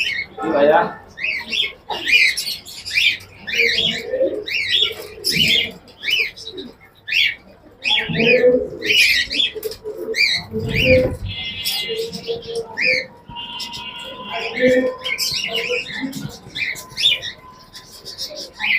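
Pigeons cooing and chirping at a bustling pigeon market in Rajshahi city, many birds calling close by in repeated bursts while people talk over and between them.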